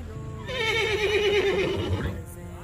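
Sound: horse neighing

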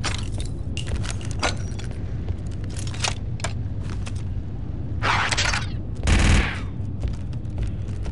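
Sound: LS-150 heavy ACP repeater gunfire in Star Wars Republic Commando video game

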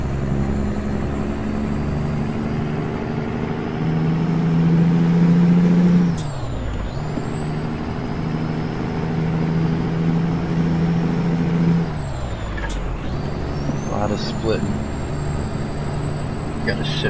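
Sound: heavy truck engine hauling a load, from video game American Truck Simulator

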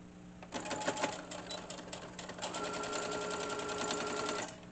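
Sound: sewing machine stitching down the middle of fabric

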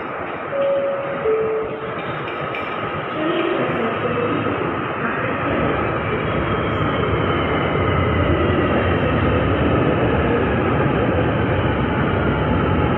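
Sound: Rapid KL LRT train arriving at station

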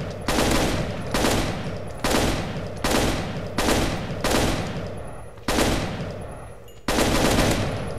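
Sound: gunfire from CS weapons mod in Minecraft video game

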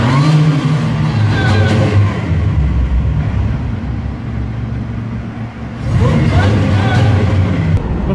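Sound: V6 car engine revving with headers

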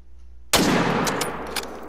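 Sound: rifle gunshot at caribou while hunting

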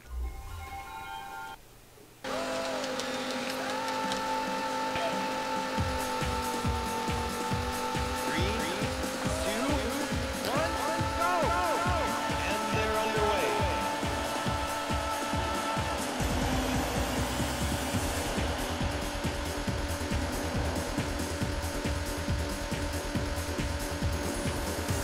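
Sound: race cars in the video game Daytona USA

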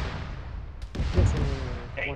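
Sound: artillery fire mission in the video game Arma 3

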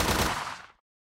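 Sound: automatic rifle fire in a video game

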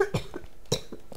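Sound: cough

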